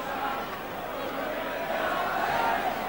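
Spectators in the main stand at a Leeds versus Salford rugby league match applaud steadily as a player jogs back for a kick-off, a broad, distant crowd wash under commentary.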